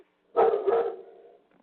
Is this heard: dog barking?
yes